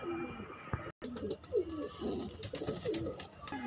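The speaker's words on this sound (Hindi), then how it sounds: "ये छह कबूतर हो गए" Lal Madrasi pigeons coo repeatedly in soft, low, throaty bursts amid a busy background at a pigeon sale in Delhi, with a brief dropout near the start.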